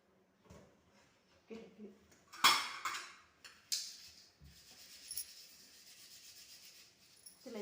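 Someone scrubs and rubs a silver vessel clean, making intermittent scraping strokes and small metallic clinks. The strokes come in short, uneven bursts, fairly quiet and close.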